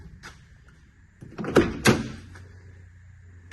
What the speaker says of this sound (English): This is by far my nicest shutting door out of the mix.